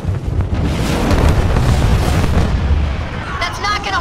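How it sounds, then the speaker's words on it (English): Archer missiles launching in the video game Halo Wars 2, a dense, loud roar of blasts and rumbling booms that runs continuously for several seconds, with a voice speaking over the barrage near the end. "Isabel, launch Archer missiles now."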